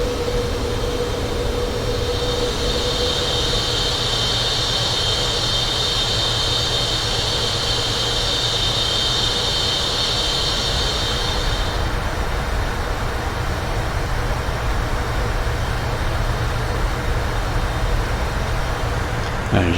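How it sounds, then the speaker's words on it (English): Boeing 747 jet engines with Rolls-Royce powerplants in the Prepar3D flight simulator produce a steady, loud roar and whine that stays constant throughout, with a high-pitched tone that fades partway through. "And you just love those Rolls-Royce engines."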